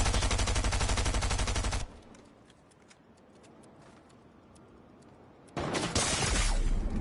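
Fortnite video game gunfire: a loud, rapid burst of shots at the start, a quieter stretch of faint clicks and rustle, then another loud volley near the end.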